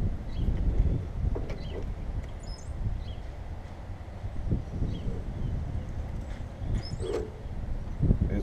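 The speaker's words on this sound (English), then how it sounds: "it's constant wind in this place" Steady wind buffets the microphone with a constant low roar, broken by faint scattered clicks and small knocks.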